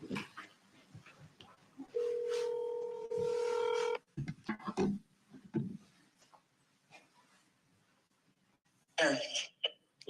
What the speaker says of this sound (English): Yeah, Liz, I'm going to try to call you